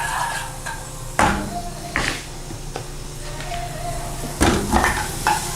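Garlic sautéing in dendê palm oil in a pan, a steady soft sizzle broken by a few sharp clacks and scrapes of a utensil, close and fairly quiet.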